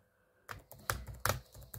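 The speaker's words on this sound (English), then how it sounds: "And Control-Alt-Delete won't work either. Trying that, as you'll see on the keyboard." Control-Alt-Delete pressed repeatedly on a computer keyboard while Windows XP hangs, a run of sharp plastic key clacks in quick succession, close and clear after a brief silence.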